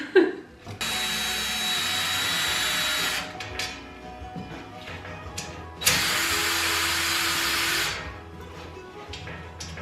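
A power drill whirs in two bursts of a few seconds each, with clicks and handling sounds between and around them.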